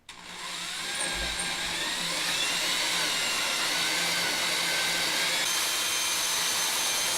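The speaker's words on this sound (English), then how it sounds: "So drill in just enough so I can see the circle mark" A power drill bores a hole through wood during a dance pad build, producing a steady, continuous whine that spins up in the first second and holds at an even level for about seven seconds, close and alone with no talking.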